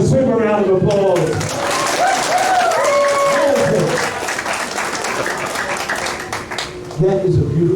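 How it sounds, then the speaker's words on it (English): An audience applauds at a senior-party hypnotist show, a dense wash of clapping running through the middle under a loud voice on a microphone that talks over the start and end. "Give him a super round of applause."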